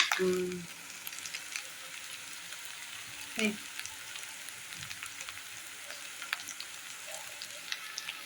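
Ginger garlic paste frying for a curry, a steady low sizzle and crackle running throughout with a brief clatter at the start, fairly quiet and with no talking.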